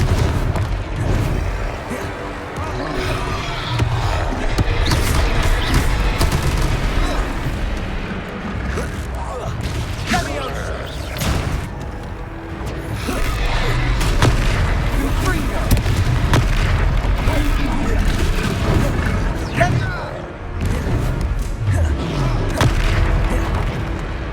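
Confringo blasting curses in Hogwarts Legacy set off a dense, continuous run of loud booming explosions and impacts during combat, with a voice shouting over the din.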